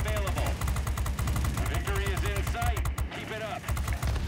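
Rapid machine-gun bursts from an F-94D Starfire jet fighter in World of Warplanes, loud continuous rattling fire over engine drone, with brief pauses and an aircraft whoosh; a voice talks over the shooting.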